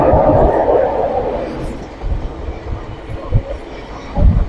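A train running through a narrow cut between mountain rocks, a loud rumble fading over the first seconds, then lower irregular clanks and thumps of the rail cars.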